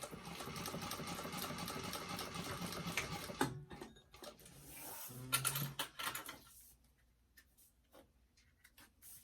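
Sewing machine stitching a bag, a steady close whirring run for about three seconds, then short stop-start bursts with fabric handling and rustling as it turns a corner before quieter pauses.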